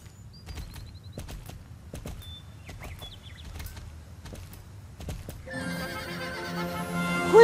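A horse in the video game Star Stable canters along, its hoofbeats thudding in a steady rhythm before a brighter chime-like game sound swells at the end, with no talking.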